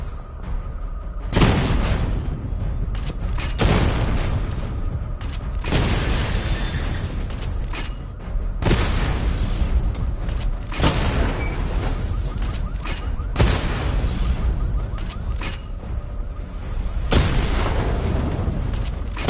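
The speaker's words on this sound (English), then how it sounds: "Charge the missile barrage to level 2 to destroy up to 4 targets at once." Missile barrage explosions in Batman: Arkham Knight, a series of about seven heavy booming blasts at irregular intervals, loud and close over a constant dense rumble of game audio.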